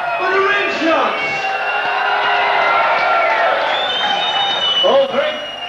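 Crowd at the Hemsby rock and roll weekender cheering and whooping for the backing band, a loud sustained roar of voices with bursts of yells, steady throughout.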